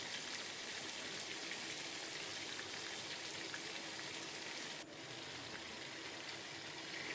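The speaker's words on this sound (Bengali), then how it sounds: "মাঝারি আঁচে রেখে চিকেনগুলো ভেজে নিতে হবে" About a kilo of chicken for chicken kosha fries in a pan over medium heat. It gives a steady, soft, continuous sizzle and crackle throughout, with no talking.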